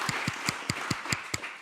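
A single colleague claps for a speaker at a World Food Day 2021 panel, eight sharp, evenly spaced claps in quick succession, close and fairly faint, with no other sound around them.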